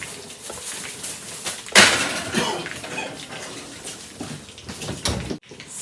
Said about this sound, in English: I'm going to turn the stove off and take my frying pan